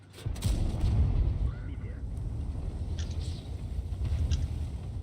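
Heavy tank cannon fire booms in the video game World of Tanks, a loud blast followed by rumbling engine noise and a few distant shots, with a voice talking underneath.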